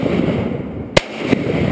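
Two sharp shotgun blasts ring out during a duck hunt over a flooded Indiana field, the first louder and the second following about a third of a second later, over steady outdoor background noise.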